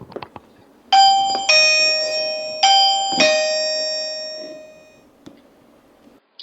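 A Swann Buddy4K video doorbell chime rings clearly and loudly, sounding a repeated multi-tone ding-dong pattern of about four strikes that rings out and decays, with faint handling noise before and after.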